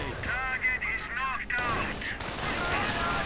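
Video game battle in which Stormtroopers come under sniper fire and grenades, heard as rapid gunfire bursts and explosive blasts layered under crackling chatter and effects for about three seconds.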